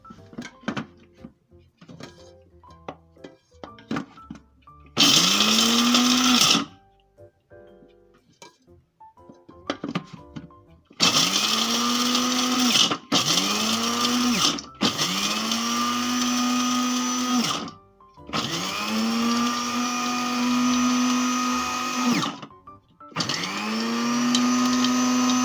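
A blender grinds almonds into small chunks for a lentil sweet, running in several loud bursts of steady high-pitched whirring separated by short pauses, with light kitchen clatter in the gaps.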